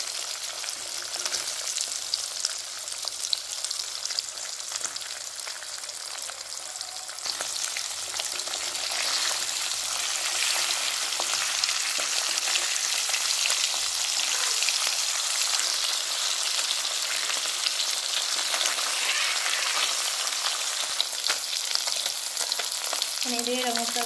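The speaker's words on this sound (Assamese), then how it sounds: "এনেদৰে ৰঙচুৱা কৰি মাছকেইটা ভাজি থৈছোঁ।" Fish frying in hot oil for an Assamese fish curry, a steady, loud sizzle that runs unbroken for the whole stretch with no talking.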